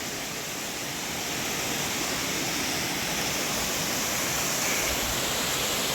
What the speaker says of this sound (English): So this is definitely water flowing over this and towards the end of the rainy season.